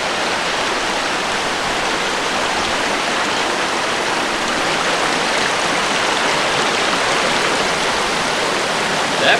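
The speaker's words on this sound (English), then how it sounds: "That's the top of the falls, right there." Wren Falls waterfall roars in a steady, loud, unbroken rush of water heard close up, with no voices over it.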